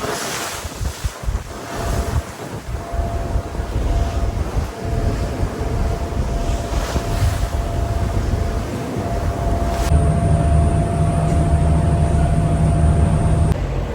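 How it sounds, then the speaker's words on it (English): Strong wind buffets the microphone over a steady Coast Guard boat engine drone and rushing water at sea near Nelson Island, continuous and loud throughout. "we're on a Coast Guard boat right now"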